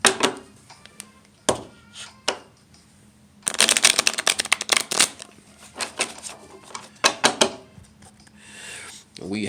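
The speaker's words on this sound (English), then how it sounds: "So we're going to do a public shuffle" Tarot cards from an infernal-themed deck shuffled by hand in riffling bursts, loud and close, with pauses between and a long busy flurry in the middle; a person speaks briefly around the shuffles.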